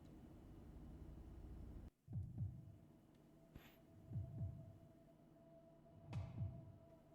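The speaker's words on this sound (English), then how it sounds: "I hear a heartbeat." Faint, muffled heartbeats in a horror video game pulse in slow double thumps, three pairs spaced evenly, under a low hum after a sudden cut in the background noise.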